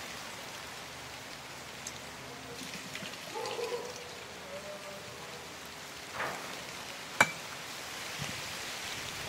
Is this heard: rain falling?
yes